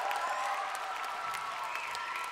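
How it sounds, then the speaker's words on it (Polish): Concert audience applauding a youth orchestra, a brief wash of clapping with faint cheering mixed in, steady and moderately loud throughout. "Wielkie brawa."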